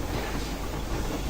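A moving train in the Metro Exodus game gives off a steady, dense rumble with a low rolling clatter. The sound is loud, close and continuous, with no voices.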